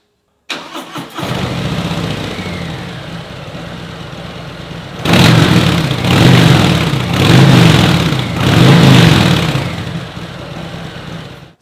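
A Harley-Davidson motorcycle engine with its stock exhaust fires up and idles loudly and close, then is revved in three or four strong, rising pulls with short dips between them.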